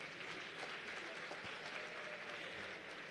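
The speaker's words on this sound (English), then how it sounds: "I would like us to give a round of applause for the sterling contribution by" Audience at a health ministry address gives applause, a soft, distant wash of steady clapping that stays even throughout.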